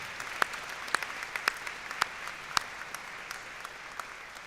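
Audience applause at a university graduation ceremony, a steady wash of clapping from a large crowd with sharper individual claps standing out, heard alone without talk.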